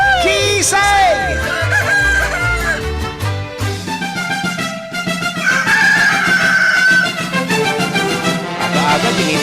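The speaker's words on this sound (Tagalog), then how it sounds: "Aga-aga, tinitilaukan na naman ako nito." A rooster crows loudly and close by, a drawn-out cock-a-doodle-doo rising over clucking and a busy background, followed by more fowl calls.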